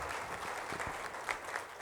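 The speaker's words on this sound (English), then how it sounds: "Please give a round of applause for Mr." A summit audience applauds after a speaker is introduced, a steady even wash of clapping from a seated crowd with a few sharper claps standing out, fairly close and moderately loud throughout.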